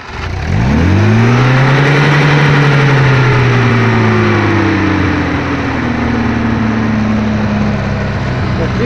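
A small engine on a homemade mud-going vehicle, choke pulled fully out, cranks and catches, then settles into a loud, steady, close idle with a rising then even droning tone.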